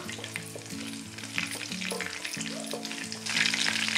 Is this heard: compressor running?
no